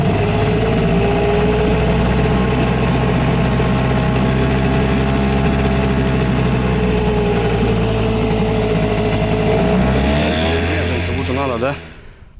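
A Gladiator 9.9 outboard boat motor runs on its first start, a loud steady buzzing drone close by that shifts pitch near the end before cutting off.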